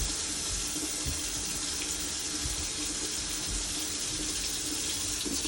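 Water runs steadily from a kitchen sink faucet, rinsing cleaner off the sink in a continuous, even splashing stream, close and alone.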